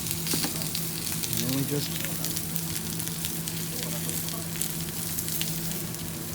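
Fat and meat sizzle loudly on a hot jingisukan grill in Otaru, Hokkaido, a dense constant hiss close by, with a few quiet spoken words over it.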